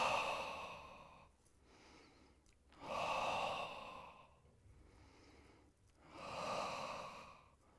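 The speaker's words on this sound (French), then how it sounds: "J'inspire, j'expire." Slow, audible breaths during a Pilates single leg stretch, three long airy exhalations alternating with quieter inhalations in a steady rhythm, close and clear with no talking.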